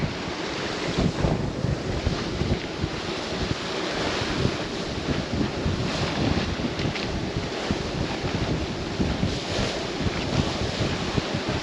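Strong wind roars and buffets the microphone while waves wash steadily against a moving sailboat, a constant loud rush with no voices.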